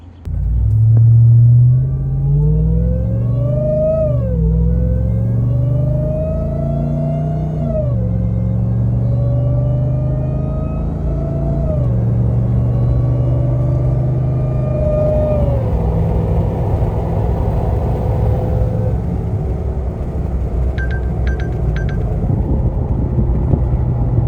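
A Ram TRX pickup truck towing a trailer accelerates from a start, its engine rumbling loud and close as revs climb through several gear shifts, then settling into a steady cruising drone with no talking.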